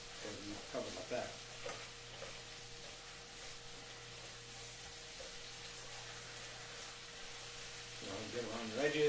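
A spatula stirs and scrapes food around a Teflon wok while a steady sizzle runs underneath, with a person talking over the cooking near the start and end.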